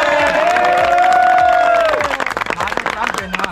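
Students at an NSS college camp clapping and cheering, a crowd's loud sustained cheer and whoop giving way to scattered claps and chatter.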